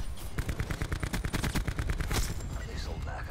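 Rapid bursts of automatic gunfire from teammates in Call of Duty: Black Ops 4 on Xbox One, a dense rattling volley of shots that thins out toward the end.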